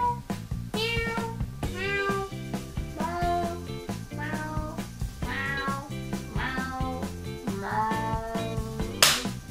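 A woman imitates a cat with her voice, giving a rapid series of about ten distinct meows in a quick, even rhythm, close and clear, ending with a sharp burst.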